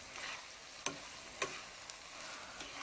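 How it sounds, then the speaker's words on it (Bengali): Chopped tomatoes and vegetables for egg pasta being stirred and fried, a soft, fairly faint sizzle punctuated by a few distinct scraping clacks of the spoon against the pan. "টমেটো কুচি দিয়ে নেড়েচেড়ে আরও 2 থেকে 3 মিনিট ভেজে নিব।"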